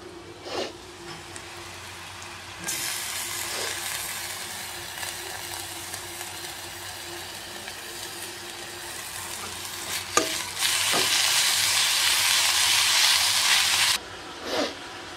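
Potatoes and eggs frying in a pan as ginger paste goes in, a steady sizzle that swells into a louder, hissing burst near the end, broken by occasional spatula knocks and scrapes.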